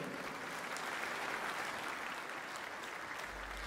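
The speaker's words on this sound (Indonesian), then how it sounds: "Kita suka ayat ini, kita tepuk tangan" A church congregation at a Joyce Meyer service breaks into full, even applause, a thick continuous patter of many hands that stays at one level throughout the short stretch.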